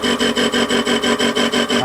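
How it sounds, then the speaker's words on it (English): Facing cut on a WARCO lathe across a face interrupted by bolt slots, giving a steady rasping scrape that pulses in a regular rhythm about five times a second, close and loud, with no talk. "I'm facing across the face. The intermittent you can hear is the bolt slots."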